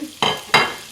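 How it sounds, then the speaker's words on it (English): Noodles tipped into a hot pan of vegetables and bacon, giving two quick sizzling bursts close by, each rising sharply and then easing off into a steady hiss. "I'm just going to grab the noodles, I'm just going to dump them in the pot."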